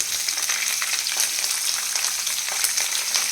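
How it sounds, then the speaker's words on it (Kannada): Onion and green chillies fry in a pan with a dense, even, hissing sizzle that stays close and constant throughout, with no voices. "ಹಾಗೆ ಫ್ರೈ ಮಾಡ್ಕೋಬೇಕು ಕ್ಲೀನಾಗಿ ಈ ಥರ ಫ್ರೈ ಆಗಬೇಕು"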